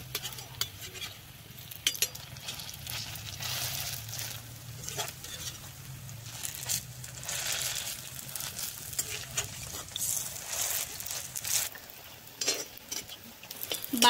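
Malabar spinach leaf fritters sizzle in oil in a wok while a metal utensil scrapes, flips and lifts them out, giving clinking and stirring noises over a continuous fry.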